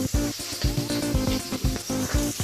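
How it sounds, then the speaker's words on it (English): Mussels fry in a pan with crackling sizzle and a rhythmic series of scraping, clattering stirs, close and fairly loud. "I'm frying mussels."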